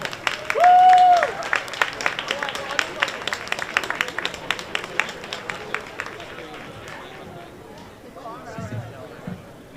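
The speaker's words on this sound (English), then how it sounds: "round of applause for the Honorable Babsy Grange" An audience at a Jamaica 60 media launch in New York applauds a politician, scattered claps thinning out over several seconds, with a brief loud tone near the start and chatter mixed in.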